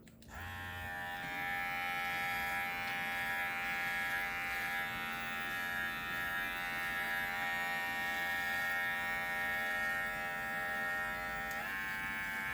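A Silvercrest SHBS 700 A1 hair and beard trimmer switches on and buzzes steadily close up, with a tonal electric whine that holds throughout and shifts pitch slightly near the end.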